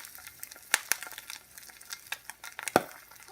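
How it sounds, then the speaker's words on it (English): Soft sizzling of an egg frying in a cast iron pan, with scattered clicks and scrapes of a utensil against the pan, plus a couple of sharper knocks. "Egg is frying up."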